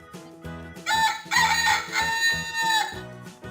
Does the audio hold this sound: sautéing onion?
no